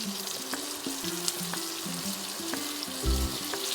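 Finely chopped onions sizzle as they fry in a pan alongside pieces of katla fish, a steady close crackle with background music and a brief louder burst near the end.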